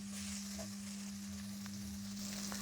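Onion frying in a pan gives a soft, steady sizzle with faint crackles under a constant low hum, quiet and close.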